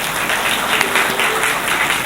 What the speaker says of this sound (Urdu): اس کے لیے تالیاں.